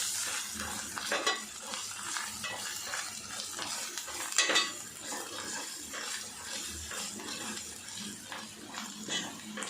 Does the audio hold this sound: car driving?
no